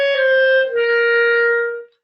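A clarinet sounds one long, strongly accented note that is briefly re-attacked near the midpoint and then held steady before it cuts off. It is played alone, with no voice over it.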